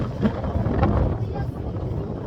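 Wind blowing outdoors, gusting across the microphone as a steady rumbling buffet, with a voice heard faintly underneath.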